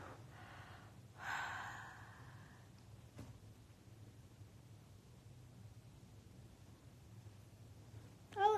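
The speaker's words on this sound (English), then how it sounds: "I have to yawn." A teenage girl gives a single breathy yawn, a drawn-out airy inhale and exhale near the mic over a low room hum, followed by quiet background.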